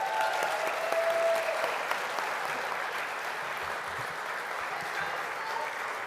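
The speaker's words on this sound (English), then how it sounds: "Let's hear a big round of applause for all of our recipients today." Audience applause for award recipients at a board of education meeting, a steady broad wash of clapping lasting several seconds throughout.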